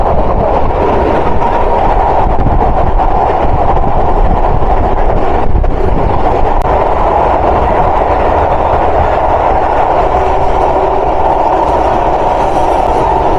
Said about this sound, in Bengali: অভিযাত্রী কমিউটার ট্রেন প্রবেশ করলো বুড়িগঙ্গা রেলওয়ে সেতুতে, সেই সাথে আমরা পাড়ি দিচ্ছি বুড়িগঙ্গা নদী